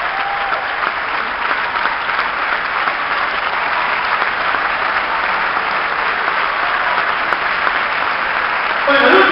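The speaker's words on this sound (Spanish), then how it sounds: "Entonces, un último gran aplauso, adelante, por favor." Dense, sustained applause from a theatre audience at a musical performance at the Teatro Ópera, a loud continuous wash of many hands clapping without pause, rising slightly at the very end.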